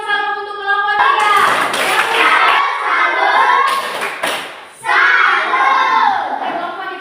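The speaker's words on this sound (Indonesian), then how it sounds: "Berikan tepuk tangan untuk kelompok 3." A classroom full of students clapping for a group, loud and sustained, with a short dip before the applause swells again.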